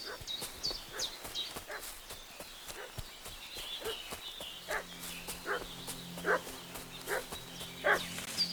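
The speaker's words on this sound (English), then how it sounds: "What's that dog making such a fuss about?" Dog barking in the video game Kingdom Come: Deliverance II, a series of spaced barks that grow louder toward the end over a faint outdoor ambience with steady background tones.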